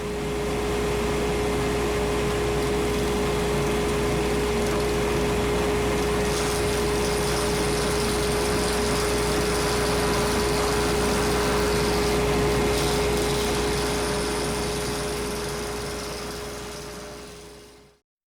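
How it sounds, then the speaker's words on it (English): A wood lathe spins a pen blank at about 1300 RPM, knocking the corners off. Its steady motor whine and hum run continuously for the whole stretch, fairly loud and close, with no talking. "it's only turning at about 1300 RPM here to take the corners off"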